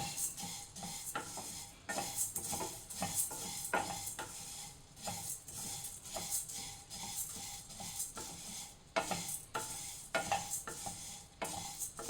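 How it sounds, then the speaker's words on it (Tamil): Coriander seeds dry roasting in a pan over a low flame, with a spoon scraping and stirring in an irregular rhythm and soft crackles between strokes, close up and without talk. "இதை சிம்மில் வச்சுட்டு தான் வறுக்கணும் கருகக்கூடாது"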